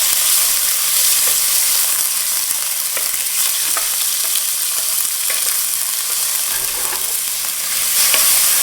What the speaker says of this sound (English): Okay, the oil is starting to sizzle.